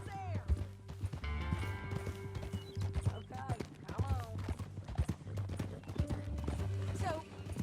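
Horse hooves clip-clop at a steady walking rhythm in Red Dead Redemption 2, close and clear, with an occasional whinny, game music tones and brief speech over them.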